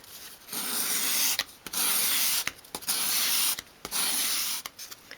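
Fine grade sandpaper rubs a small wooden piece for a 1/12th scale dolls house bookcase, in steady hand-held strokes in short bursts with brief pauses between, close and clear with no talking.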